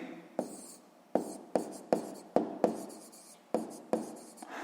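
A pen writes out a math solution on paper in short strokes with sharp taps, about nine distinct strokes in an uneven rhythm, close and clear.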